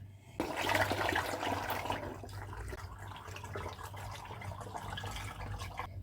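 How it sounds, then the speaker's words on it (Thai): Water gushes into a fermentation bucket while making roselle wine, a loud splashing pour that starts abruptly, then settles into a steadier trickle and running-water rush close by. "เราจะเทน้ำลงถังหมักก่อน"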